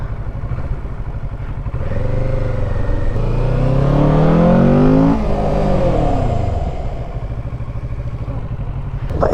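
A Kawasaki Z650 motorcycle engine revs up loudly and close, climbing in pitch as it accelerates, then drops away sharply under hard emergency braking, with wind noise and clatter behind it.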